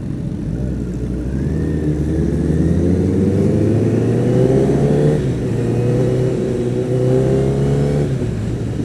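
Kawasaki motorcycle engine on a group ride, a steady mid-pitched drone rising and falling through the gears as the bike accelerates, loud and close with wind noise and no talking.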